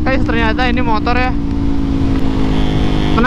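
A Yamaha MT25 250cc motorcycle on a test ride: a steady, loud engine drone with a low, constant hum runs throughout, while someone talks over the first part.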